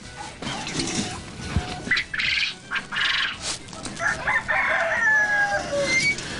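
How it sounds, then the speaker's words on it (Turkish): Several German Hamburg chickens cluck and crow close by in a lively coop, with overlapping calls and rustling and no talking. "Bunlar Alman Hamburg dediğimiz tavuklar."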